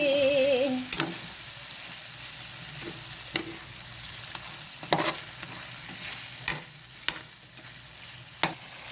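Chicken being stirred in a pan with ketchup and oyster sauce; a soft sizzle underlies a series of sharp spatula clacks and scrapes at irregular intervals, close and fairly quiet.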